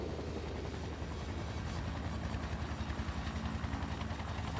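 Vertibird aircraft in Fallout: New Vegas arrives with a steady, heavy rotor whir and low engine drone, the pulsing beat strengthening toward the end as it approaches, with no talk.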